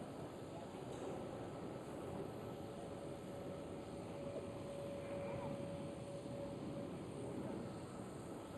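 A jet airliner arriving on runway 36 Center at Amsterdam Schiphol, near a waiting 747, rumbles as a broad, steady roar that holds level throughout with a faint whine above it.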